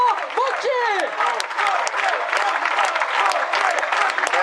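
Audience at a political rally in Marseille breaks into loud, sustained applause, dense clapping that carries on throughout, with a speaker's voice briefly heard at the start.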